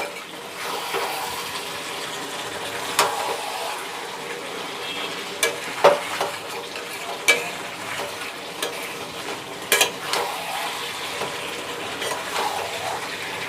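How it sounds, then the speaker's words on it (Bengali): Meat and potatoes frying in a pan without water, a continuous dense sizzle with irregular scraping and clinks of a utensil stirring against the pan, close and fairly loud with no talk. "আজকে মাংসটা কষা কষাই করবো, জল দেবো না।"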